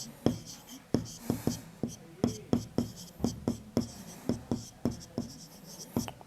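Chalk or marker writing a letter on a board during a geometry lesson, a rapid series of close scratchy taps and strokes in an uneven rhythm, with faint speech underneath.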